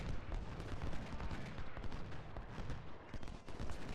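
Musket volleys from Civil War brigades firing in Ultimate General: Civil War roll out as dense, overlapping crackling gunfire. The distant, continuous rumble of battle runs on without pause.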